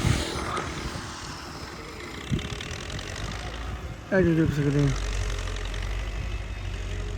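A Belarus tractor pulling a plough through a farm field, its engine a steady low rumble running beneath someone talking throughout.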